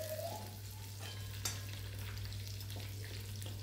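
Chopped onion sizzles steadily in a hot pan with garlic and chili, a continuous close frying hiss with a single sharp clink partway through and no talking.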